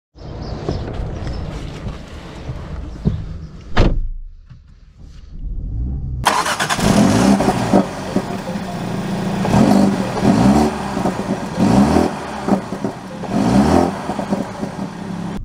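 A 2024 Mini Cooper Clubman John Cooper Works idles briefly, and its engine starts with a sharp crank and catches. It then settles into a loud, close running rumble with rising and falling revs as it pulls away, and no one speaks.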